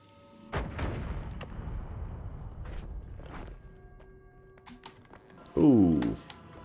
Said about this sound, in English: May have to use the bomb.